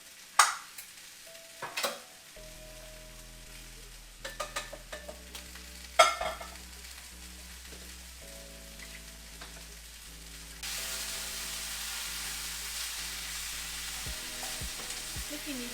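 Vegetables cooking down in olive oil in a pan, a soft steady sizzle with a few sharp clatters of stirring early on, then the frying hiss grows louder and denser toward the end, with no talking.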